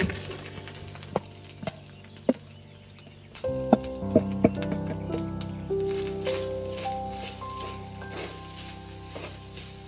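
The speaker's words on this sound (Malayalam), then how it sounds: "നമ്മുടെ തേങ്ങയും അവലും ഒക്കെ ഒന്ന് വഴറ്റി എടുക്കാൻ വേണ്ടിയിട്ട്" Grated coconut and flattened rice (aval) sautéing in a pan, a steady soft sizzle with occasional clinks and scrapes of stirring, close and continuous.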